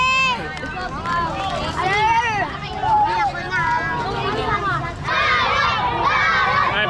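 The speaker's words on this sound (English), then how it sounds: "I've got a whole cheer party here." A crowd of children on a street in the Philippines cheers and shouts excitedly, with many overlapping high-pitched voices calling out together at close range, rising and falling in a lively, continuous wave.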